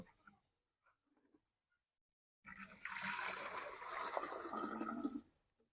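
Water pours into a container to mix medicine for pigeons with a cold, a loud broadband rush lasting about three seconds after near silence, then cutting off abruptly.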